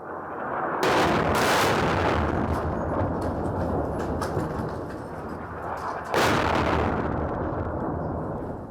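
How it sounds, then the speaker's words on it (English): Two heavy booming bursts of gunfire roll out a few seconds apart in Khartoum, Sudan, loud and echoing, followed by a long rumbling tail. "Fresh gunfire brought an abrupt end to the calm so many here in Khartoum have been craving."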